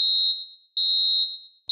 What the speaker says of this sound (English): Once an alarm has sounded